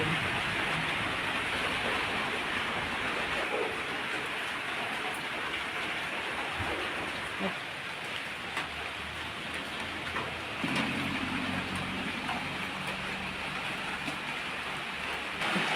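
Heavy rain pours steadily around a house, a dense continuous hiss of drops on surfaces close by, with no voices.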